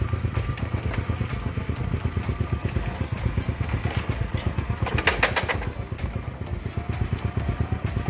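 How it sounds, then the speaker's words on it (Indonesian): A motorcycle engine runs steadily throughout at close range, a dense rapid putter that holds an even level with slight surges, no speech over it. "kita coba ya naik motor"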